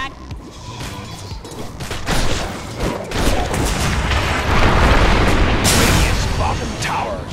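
A tower collapsing in a Dota 2 match, rumbling booms and crashing impacts building to a loud sustained roar of destruction amid battle noise, with in-game voice lines announcing events.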